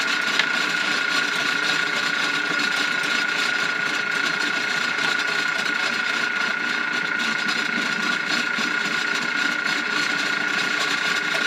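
Auto power feed drain snake running inside a clogged drain, a loud continuous mechanical motor drone with a fast rattling, ratchet-like texture that holds steady the whole time, close up and without talking.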